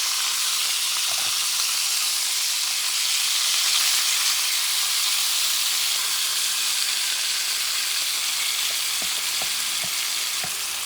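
Marinated carne with garlic and bay leaves frying in a hot pan, giving a loud, constant, even sizzle with a few faint clicks and taps underneath, and no voices.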